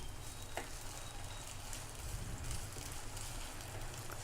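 Ginger garlic paste fries in a pan for a homemade Indian curry paste, giving a steady, faint sizzle with occasional scrapes of stirring and no talk.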